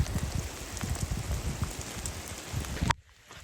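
Steady rain falls in Karijini National Park, Australia, with close, dense patter that cuts off abruptly just before the end.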